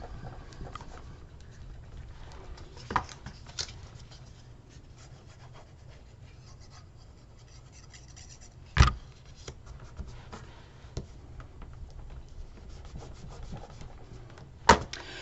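A bone folder rubs along a glued, scored paper fold, making a faint, continuous close scraping with a few sharper taps scattered throughout.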